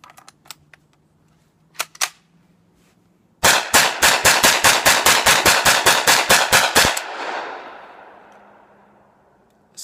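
A Chiappa M1-9 pistol-caliber carbine rapidly empties a full 16-round factory magazine, loud evenly spaced shots in a quick string after two earlier isolated clicks, ending with a ringing echo outdoors.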